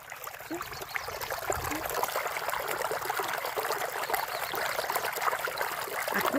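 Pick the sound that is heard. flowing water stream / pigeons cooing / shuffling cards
flowing water stream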